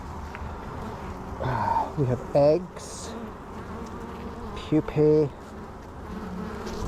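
Honey bees hum in a dense, continuous buzz over an open hive with frames being inspected, a soft steady drone beneath occasional quiet speech.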